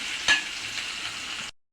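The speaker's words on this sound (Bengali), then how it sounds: "দিয়ে দিচ্ছি শুটকিগুলো, একটু ভালো করে ভেজে নেব।" Dried fish frying in a hot pan, a close, steady hiss and crackle with one sharper burst near the start, ending abruptly.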